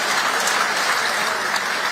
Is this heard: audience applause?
yes